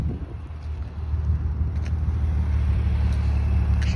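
An Infiniti G35 engine revs with a deep, steady exhaust rumble building over four seconds, a few faint crackles and pops, and wind buffeting the microphone.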